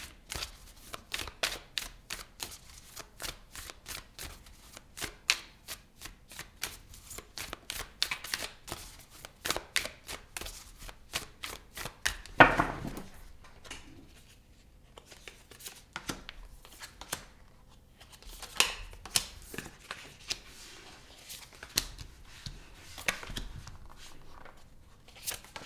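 Tarot cards shuffled by hand, a long run of quick crisp riffling flicks at close range with brief pauses and one sharper snap partway through.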